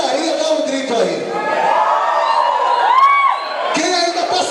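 A club crowd at a live Reny e a galera show shouts and whoops together on cue, a loud sustained roar with a shrill whistle near the end.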